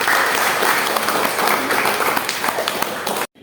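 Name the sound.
applause for Mbak Ben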